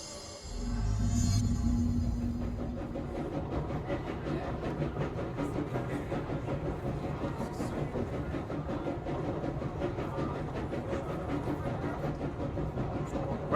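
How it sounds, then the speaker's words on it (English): Low rumbling inside a train in the video game Control, a dense mechanical roar that swells in the opening seconds and then holds steady with faint rhythmic clatter, with no talk. "We're inside the train threshold."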